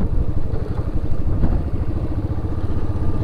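An older-model Royal Enfield Classic 350 engine thumps along at low speed with a close, loud, rapid, even, tractor-like beat that runs throughout.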